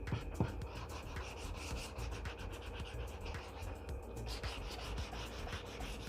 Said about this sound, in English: we're going to take the hand sander and we're just going to go with the grain, and we're just going to kind of smooth and round over everything